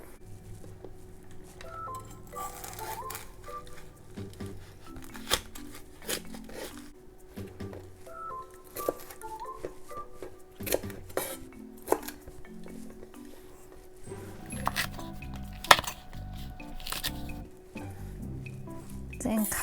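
A knife slices a green pepper on a cutting board, trimming off both ends, with scattered sharp cuts and taps in a kitchen where clinks of dishes sound between them. Someone talks over parts of it.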